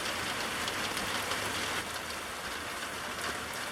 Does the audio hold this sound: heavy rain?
yes